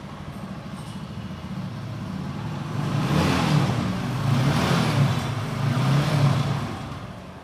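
A TVS Apache RTR 2V motorcycle engine runs up close with a steady low rumble, swelling as the throttle is blipped several times, with no talking.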